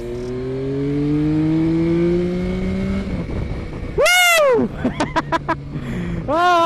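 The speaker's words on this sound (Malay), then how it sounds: "Aku suka engine ni. Engine CP3 daripada MT-09, exactly sama." The CP3 engine of a Yamaha Tracer 9 GT motorcycle pulls while riding, a rising engine drone that climbs through the gears, then sharp revs burst and repeat in quick blips, loud and close, with no talking.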